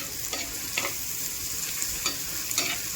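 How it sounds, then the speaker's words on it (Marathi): Onion sautéing in a pan for an eggplant, potato and onion bharit, a steady bright sizzle with a few soft stirring strokes spaced through it, close and even, no speech. "गॅलरीमध्ये चांगलं कांदा इकडं परतून होतोय"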